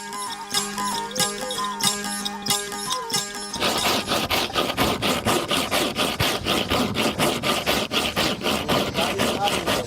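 A hand saw cuts wood for a wooden boat in a steady, rapid back-and-forth rhythm of rasping strokes. Tool clatter and knocking come first.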